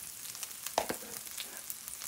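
Ground lentil paste for kachori fries in a pan with a soft, steady sizzle, broken by a couple of sharp clicks from stirring, close and fairly quiet.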